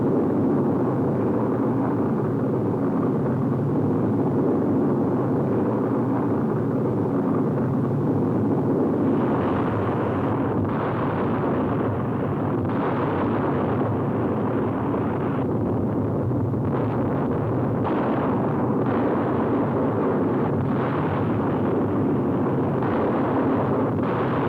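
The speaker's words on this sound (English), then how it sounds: "Remarkable pictures of the RAF bombing the Nazis in broad daylight." A 1943 RAF daylight bombing raid on a radio plant: a continuous heavy roar of aircraft and blasts, dense and unbroken, with occasional swelling rumbles.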